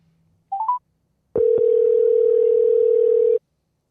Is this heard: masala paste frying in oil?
no